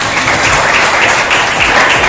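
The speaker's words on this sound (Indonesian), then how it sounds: "Tepuk tangan." A classroom of students claps together in steady, loud, close applause for the whole stretch, with no voices over it.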